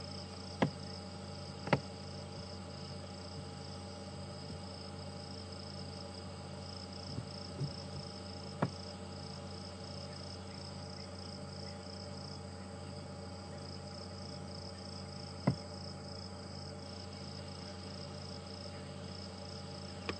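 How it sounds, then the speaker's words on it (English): A loud, unbroken buzz of cicadas on an evening at Djuma Game Reserve, with a steady insect drone and a low hum running throughout. A few faint clicks and ticks are scattered across it. "You can hear the buzz of the cicadas."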